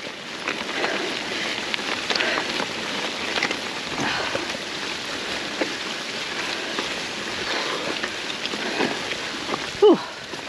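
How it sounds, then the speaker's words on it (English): Rain falls steadily in a forecast shower, a soft even patter of drops close by with scattered louder taps and a faint human sound near the end. "this is the rain that was forecast at this time."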